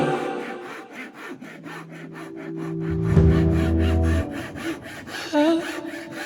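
Hand saw cutting wood for a mortise joint in a farmhouse kitchen build, steady rapid back-and-forth strokes close by, loud and rhythmic, alone with no talking.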